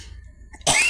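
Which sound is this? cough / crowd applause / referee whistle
cough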